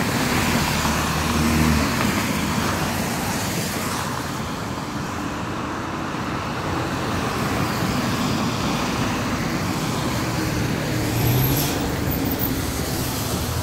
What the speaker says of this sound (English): My bus is here.